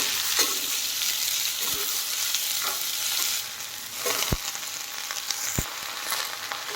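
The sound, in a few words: snake gourd frying in oil with dried chilli and nigella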